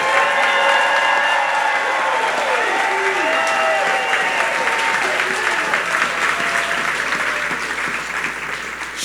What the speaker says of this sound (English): So I need you all one more time to clap for her